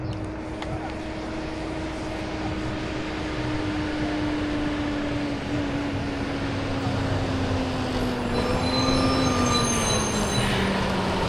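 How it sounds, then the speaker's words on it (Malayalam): A big truck passes on a rough, roadless track in Africa, its loud, steady engine drone sliding slowly lower as it goes by, with squealing, clattering overtones building near the end. "അവിടുന്ന് ഇതാ ഒരു ട്രക്ക് വരുന്നു"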